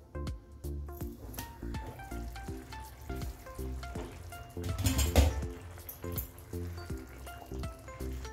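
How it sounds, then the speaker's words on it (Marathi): A pea and paneer curry bubbles and simmers in a pot, a steady soft hiss broken by frequent small pops and bubbling sounds, with a louder clatter of the pot midway. "भाजीला उकळी आलेली आहे."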